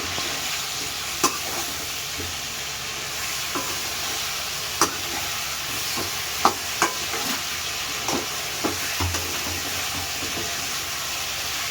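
A spoon stirs a mixture of sugar, salt and lemon juice for Gujarati patra, with scattered scraping clicks at irregular intervals over a constant hiss and no talking.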